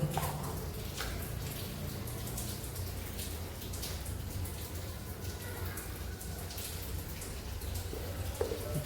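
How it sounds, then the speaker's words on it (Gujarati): Steady rain falls outdoors during a stop at a temple, a continuous soft wash of drops with scattered patters and small splashes throughout, no voices. "વરસાદ ચાલુ હોય બહાર તો"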